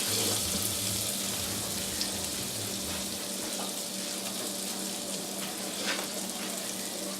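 Regular butter sizzles in a pan with a continuous, even frying hiss and light crackle, close and steady the whole time, and nobody speaks.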